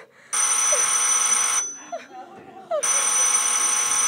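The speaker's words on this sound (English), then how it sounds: "If you don't stop ringing me, I'm going to call the police." A telephone bell rings in long, loud bursts with a gap in the middle, where a voice speaks briefly before the ringing resumes.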